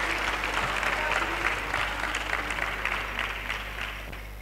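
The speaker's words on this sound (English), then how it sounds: "Please, let's give her a round of applause once again" A lecture audience applauds someone speaker at an engineering lecture, steady dense clapping throughout with a low hum underneath, fading slightly toward the end.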